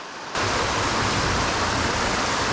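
Rushing water from waterfalls pouring into a big pool on West Canada Creek, a steady broadband roar that starts abruptly and holds constant, close and loud, with no voices.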